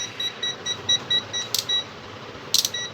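A handheld multimeter beeps repeatedly in short, evenly spaced tones, near and fairly clear, with a couple of brief clicks breaking in among the beeps.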